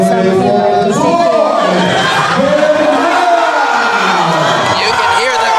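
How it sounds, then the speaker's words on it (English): Crowd at a powerlifting meet, the SBD Philippines Nationals 2025, roaring and cheering loudly and continuously, with shouts and whoops rising throughout. "You can hear the crowd roar for this."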